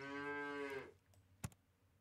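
A cartoonish cow moo from the Super Auto Pets video game, one drawn-out harmonic low call lasting under a second, followed by a short sharp game click and faint background.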